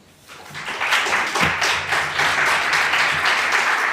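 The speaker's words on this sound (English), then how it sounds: "you are applauding already" Audience applause at a women's summit, a dense crowd of clapping that swells quickly and stays loud and even throughout.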